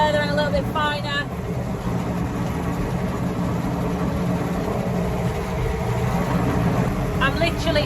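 A tractor-driven muck spreader at higher revs, spreading muck on a farm: a steady loud engine drone and mechanical rumble throughout, with someone talking briefly over it.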